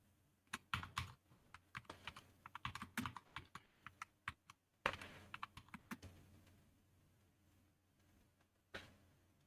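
Rapid clicks of computer keyboard typing in a quiet room, irregular bursts of keystrokes with short pauses, close and fairly faint, no voices.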